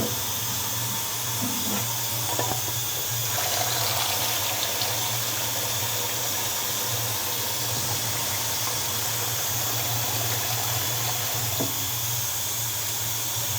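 Cold tap water runs steadily over boiled eggs in a sink or pot, a constant close hiss and splash with a low hum beneath and a few brief clunks, no talking.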